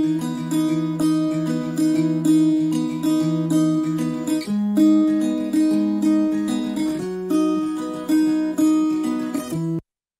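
Acoustic guitar captured through a main mic and a high mic blended together, playing mellow strummed chords for a pop song, close and full with steady sustained tones until an abrupt stop.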